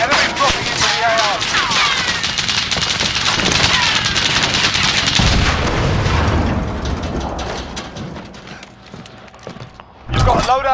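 Bursts of automatic gunfire and explosions in Call of Duty: Modern Warfare, a dense, loud barrage of shots with booms that fades somewhat near the end before a final loud hit, with game voice chatter mixed in.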